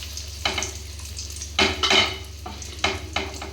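Fish roe fritters made with a little gram flour frying in hot oil, a steady sizzle broken by several sharp bursts of popping and spitting, close and loud with no talking.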